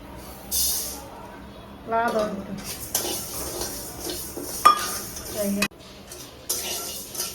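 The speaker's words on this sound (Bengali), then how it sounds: "এখন ডালটা যে ডালটা তরকারির মধ্যে দেবো সেই ডালটা একটু ভেজে নিচ্ছি" Lentils dry-roasting in a kadai give a light sizzle broken by scraping and clattering stirs of a spatula against the metal pan, in uneven bursts close to the microphone while a voice talks intermittently.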